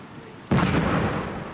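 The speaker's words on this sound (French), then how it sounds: "Les pyrotechniciens font exploser des bonbonnes d'essence sur un écran bleu de 20 mètres de côté" Gasoline canisters blown up by pyrotechnicians as a film special effect in front of a huge blue screen: a sudden loud blast followed by a sustained roaring, crackling rumble that slowly fades.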